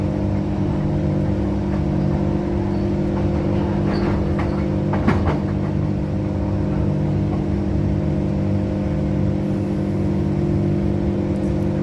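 A Transperth A-Train rolls between stations on the Armadale line shuttle, a steady loud rumble of motors and wheels on rail with faint clicks over joints, heard from inside the carriage with no talking.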